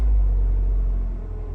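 A Ford Focus engine idles smoothly after a misfire repair, giving a low, steady rumble close by that eases slightly toward the end of the short stretch.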